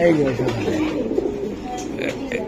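A racing pigeon coos softly at close range while people talk over it.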